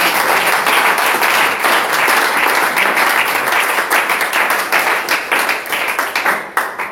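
Church congregation at a Cameroonian worship gathering breaks into dense, loud applause, a sustained wash of many hands clapping that thins into scattered claps toward the end.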